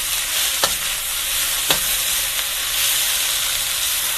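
Egg and peppers for fried rice sizzle in a hot pan, a loud steady hiss of frying with a couple of soft scraping stirs, close and continuous with no voices.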